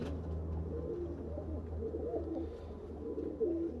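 Pigeons of the Sion breed coo softly and repeatedly inside a loft, low murmuring calls overlapping in a steady, close background with no speech.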